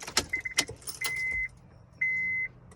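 The key of a 2013 Honda Pilot jangles in a few close, bright clinks, followed by two steady electronic chime tones from the car inside the cabin.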